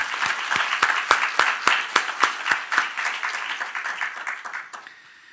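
A church congregation at an ordination worship service claps in unison with a steady rhythmic beat, full and close at first, then thinning and fading out after about five seconds.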